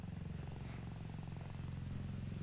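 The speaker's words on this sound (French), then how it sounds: "Préparez-vous, le chopper s'en vient dans approche finale." A military helicopter on final approach in ArmA 3, its rotor a low, steady, rhythmic thumping drone that holds at moderate distance for the whole stretch, with no talk over it.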